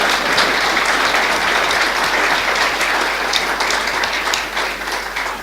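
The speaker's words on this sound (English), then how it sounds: "This is where you applaud." Audience applause for panelists at the close of a discussion session, a steady dense wash of many hands clapping throughout, loud and close, easing slightly near the end.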